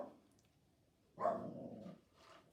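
Dogs let out a single fairly loud bark or bay that trails off, followed by fainter yelps in a quiet indoor space.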